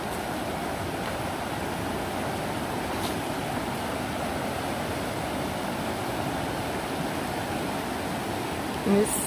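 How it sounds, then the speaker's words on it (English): Steady broadband rush of a river flowing through the Great Smoky Mountains at Elkmont, Tennessee, in November, a continuous even wash of water with no voices, holding constant level throughout. "just listen to the sound of the river"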